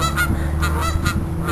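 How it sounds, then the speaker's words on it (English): Geese honk loudly and close by along the Saginaw River in early spring, several harsh, repeated calls overlapping over a steady outdoor background. "There's the geese."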